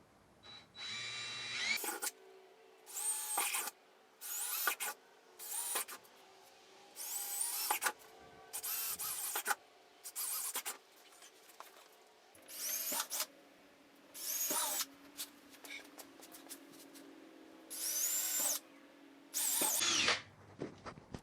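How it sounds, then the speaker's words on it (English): A power drill drilling holes to mount tail lights on a motorcycle King Tour Pack whirs in repeated short bursts, about a dozen on-off runs with brief quiet gaps, close and fairly loud, no talking. "I got my holes marked. Now I'm going to drill them."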